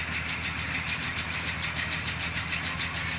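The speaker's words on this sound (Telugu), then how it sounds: "గడ్డి మోపులు కట్టడానికి కూడా ట్రాక్టర్ వచ్చిందనమాట" A tractor-driven baler ties straw into bundles in a field, its engine running as a steady, loud, unbroken drone with a low rumbling hum throughout.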